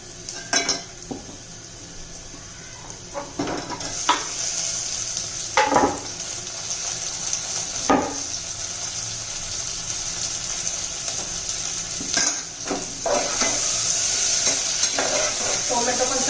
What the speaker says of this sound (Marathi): कांदा आपला तांबूस रंगावर थोडासा आजपर्यंत झालेला आहे त्यात आपण आता टोमॅटो घालून घेऊया